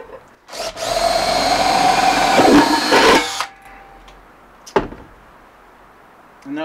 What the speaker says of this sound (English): I'm gonna drill a pilot hole